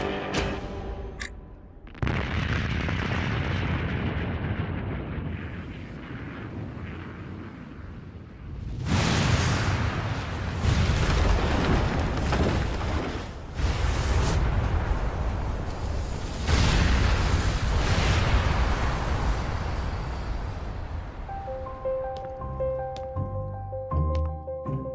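Deep, sustained roaring rumble from an atomic bomb test explosion on a Kazakh steppe test site, with booming surges and a long rolling tail, loud and continuous.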